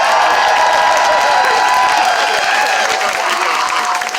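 A crowd at a post-election rally cheers and claps, a dense sustained roar of applause and shouts that stays loud and steady, then starts to ease toward the end.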